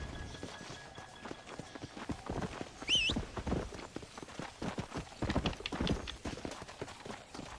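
Horse hooves clip-clop in the undead-themed Red Dead Redemption: Undead Nightmare game, a steady walking rhythm of close, moderately loud hoofbeats with brief ambient game sounds mixed in.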